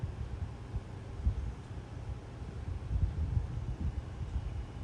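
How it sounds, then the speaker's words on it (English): A 12-inch Wind Master high velocity fan runs with a steady, faint low hum and soft airy whoosh, constant throughout with no voices. "It does have a very faint startup sound to it and a very faint whine or humming sound."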